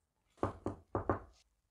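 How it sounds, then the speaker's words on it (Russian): Four hollow knocks on a door in a quick uneven pattern, two and then two, fairly faint and set in a quiet room. "Мои воспоминания прервал стук в дверь."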